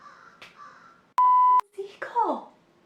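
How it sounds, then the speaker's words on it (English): A seagull calls from outside an open window, a short harsh cry followed by a louder falling squawk, heard near a sharp electronic beep and some indoor vocal sounds. "Seagull!"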